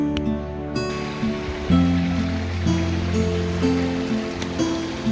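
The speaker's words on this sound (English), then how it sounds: "Water's flowing." Water runs steadily in a stream in the Australian bush on an autumn day, a continuous close wash of flowing water with a few brief knocks over it and no talking.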